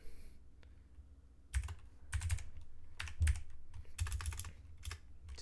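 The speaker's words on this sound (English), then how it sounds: "So if I type my current password and" Password being typed on a computer keyboard, heard as clusters of sharp, close key clicks in quick bursts separated by short pauses, after a quiet opening stretch.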